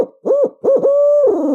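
A run of deep, rhythmic owl hoots, rising and falling in a quick series and ending on a drawn-out note; an eight-note owl hoot locator call made by a turkey hunter imitating an owl.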